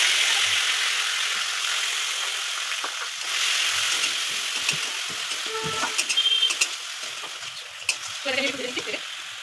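Ground spice paste frying in hot oil after a dried red chilli tempering, a loud steady sizzle with intermittent scraping and clinking of a stirring spoon against the pan.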